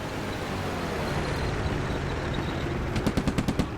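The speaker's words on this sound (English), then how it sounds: "Another strafing shot by our planes." Aircraft strafing with machine guns in a Korean War battle game, a continuous rumble of engines and battle noise that breaks into a quick run of about eight sharp rhythmic shots near the end.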